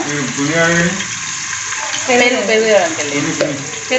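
Ginger garlic paste sizzles and spatters in a pan for a chicken curry, a steady frying hiss running throughout with voices talking over it.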